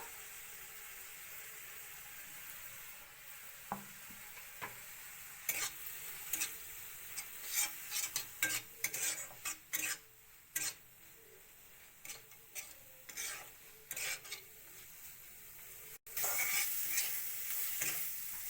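Fish roe fries with salt and chili powder while being stirred: a low, steady sizzle is broken by sharp, irregular scraping clicks of the spoon, which come in quick clusters before a louder burst of frying near the end.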